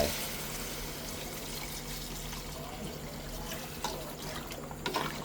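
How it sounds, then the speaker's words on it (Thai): Soup broth pours into a pot for a Thai fish curry, a continuous, fairly close splashing stream that runs throughout with a few brief louder splashes near the end. "น้ำซุปลงไป"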